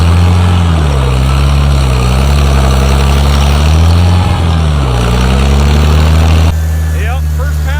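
A Farmall 756 tractor works a field, its engine a loud steady low drone with the pitch swelling and dipping under load, close to the microphone, then easing off near the end; people talk over it.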